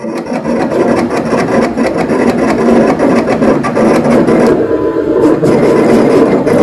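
An inkjet printer's tangential head sweeps rapidly back and forth over a chrome metal substrate, making a loud, continuous rasping clatter with rapid mechanical pulses and no talking.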